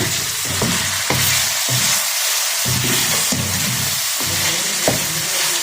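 Meat frying in a pan with tomatoes just added for an aloo chicken dish, a steady loud sizzle broken by repeated stirring scrapes and bursts throughout, with no talking.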